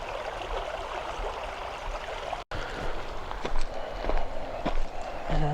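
Water flowing in a stream at a nature park, a steady rushing wash heard from a trail, with footsteps crunching over it.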